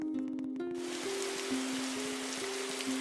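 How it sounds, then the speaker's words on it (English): Rain falling in the Eternal Darkness video game, a dense steady hiss of rainfall that starts abruptly and continues evenly under a low tonal musical drone. "Great, now it's raining."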